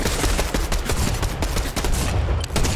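Rapid, continuous gunfire in a Fortnite match, loud dense volleys of shots crowding together with no break for nearly three seconds.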